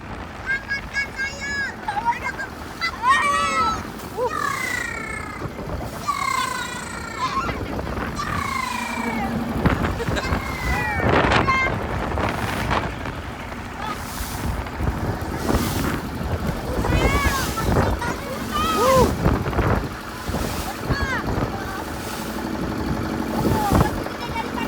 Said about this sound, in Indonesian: Ini ombaknya kenceng banget ya.